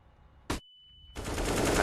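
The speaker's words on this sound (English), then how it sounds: "RPK, good flashbang, better kills." Short burst of RPK machine-gun fire in Counter-Strike: Global Offensive at a pro match, then a thin electronic tone and a louder, sustained wash of gunfire and game noise.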